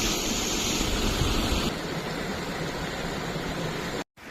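Urulikkuzhi waterfall flowing calmly, a steady broadband rush of falling water that holds at an even level throughout, briefly cutting out near the end.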